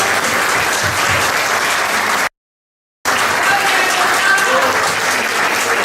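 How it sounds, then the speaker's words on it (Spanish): Church congregation applauding during a Spanish-language worship service, a loud, dense, sustained wash of clapping that briefly cuts to silence midway and then resumes just as full, with faint voices mixed in. "Denle un aplauso a Jesús"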